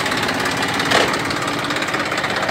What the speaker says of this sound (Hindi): कितना बढ़िया ट्रैक्टर चला रहे हैं खेत में